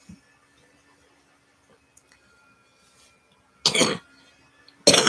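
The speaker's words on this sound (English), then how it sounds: "I'm going to be coughing today." Two loud, harsh coughs break out near the end after a mostly quiet stretch with faint clicks, each one close and forceful.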